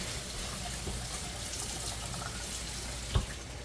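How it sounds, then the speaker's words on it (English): Cold tap water running over fresh beets in a kitchen sink, a soft, steady stream that stays quiet and even throughout, with one small knock near the end. "So I'm going to run a little bit of cold water over these."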